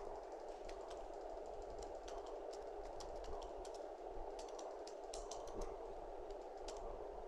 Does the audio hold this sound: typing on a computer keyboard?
yes